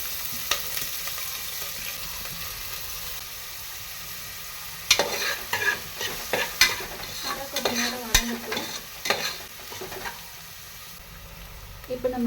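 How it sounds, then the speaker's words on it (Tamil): Steady oil sizzle as onions sauté, with intermittent scraping and stirring noises from a pan, close and continuous, no talking. "அந்த பெரிய வெங்காயத்தை மட்டும் நம்ம இதில் போட்டு வதக்கிக்கலாம்"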